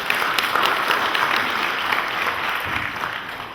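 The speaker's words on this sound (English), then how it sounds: "we should all give them a round of applause for that" Audience applause at a UDP conference in Tübingen, a steady, dense burst of clapping from a large crowd that carries evenly through the whole stretch and fades slightly toward the end.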